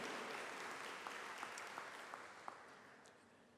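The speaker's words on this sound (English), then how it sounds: "So let's give a big round of applause to our student entertainment this morning." Soft, distant applause fills a school district convocation as the audience claps for student musical performers, an even wash of hands with a few sharper individual claps standing out.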